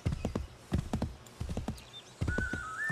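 A horse in Assassin's Creed 3 trots with steady clip-clop hoofbeats in regular clusters, close and clear, with a high whinny-like tone rising near the end; no talking.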